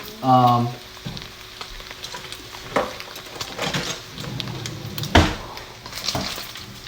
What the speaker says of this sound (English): I'm actually gonna use a spoon to scoop out this bacon